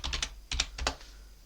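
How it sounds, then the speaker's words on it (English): Keystrokes on a computer keyboard entering a password at a Mageia Linux login, three quick clusters of clicky taps separated by short pauses, close and clear with no talking. "You have to type in your password."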